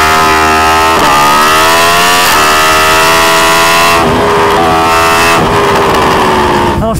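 A 2021 Yamaha R1M with an Akrapovic full exhaust screams at high revs around the Anneau du Rhin circuit, loud and close, its engine note rising through the gears with brief dips at each shift.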